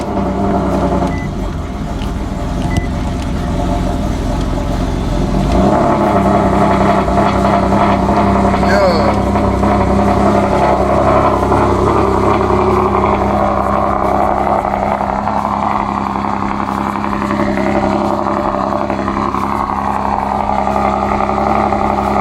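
A car engine on E85 fuel fires up from a cold start and settles into a loud, rough idle with a deep steady rumble close by, while a voice talks over part of it.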